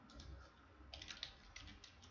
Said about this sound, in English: I am typing here first name Aryan Rao